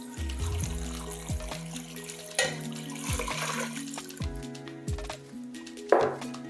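About 1.5 litres of water poured into a pot of brown chicken stock with crushed tomatoes, thyme and bay leaf, a steady gurgling flow with splashy surges, close by and with no talking.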